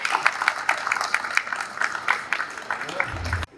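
An audience claps at a live ghazal evening in honour of the singer, with scattered, fairly rhythmic hand claps that stop abruptly near the end.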